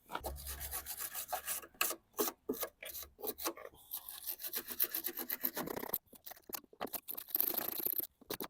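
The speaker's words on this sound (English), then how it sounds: "I'm going to clean here first using wire brush and apply WD-40" A wire brush scrubs back and forth over a brake line nut on a Toyota, giving a close, gritty rasping in short repeated strokes with brief pauses, ending in a faster burst of scraping.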